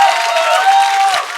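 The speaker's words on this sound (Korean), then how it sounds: "이게 함성을 이렇게 많이 질러주시니까" A lecture audience cheers and applauds loudly and steadily, with high sustained shouts over dense clapping before the noise drops off briefly near the end.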